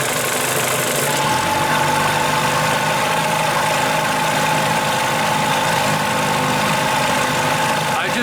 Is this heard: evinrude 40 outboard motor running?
yes